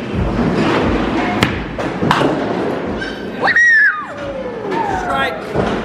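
A bowling ball slams into pins on a lane at Great Wolf Lodge, a pair of heavy thuds followed by a clattering crash amid lively voices and crowd chatter.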